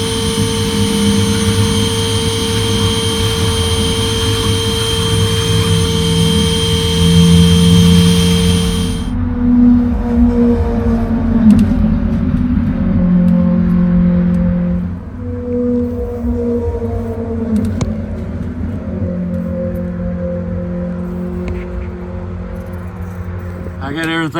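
A bee vacuum runs steadily while a beekeeper removes a hive hidden under stairs, its droning motor hum continuous and fairly loud throughout, changing pitch partway as the suction load shifts, with a voice talking over it.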